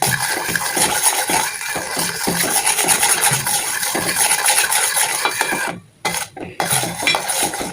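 Homemade ghee is stirred in a steel pan, with repeated metallic scraping and clinking of a utensil against the pan, fairly loud and close, pausing briefly near the end before resuming.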